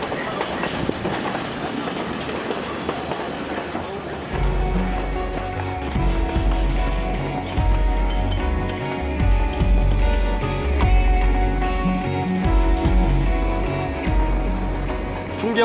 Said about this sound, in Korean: 누아라 엘리아로 향하는 기차는 어느새 차 밭으로 들어섰습니다.